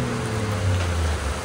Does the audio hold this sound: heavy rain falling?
yes